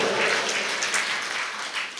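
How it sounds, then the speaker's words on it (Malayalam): Applause from an audience at a Christmas celebration, a steady dense patter of many hands clapping throughout, fairly loud with no voices. "അതൊക്കെ പറയുമ്പോൾ ഒന്ന് കൈയടിക്കുക"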